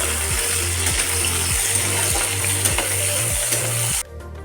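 Chopped onion sizzles steadily in a pan with bay leaf, a loud continuous frying hiss broken by regular rhythmic scraping strokes of a spatula, about one every half second, ending abruptly.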